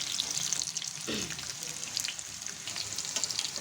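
Potatoes fry in hot oil with a dense, steady close sizzle and occasional stirring clatter, while a faint voice speaks briefly underneath.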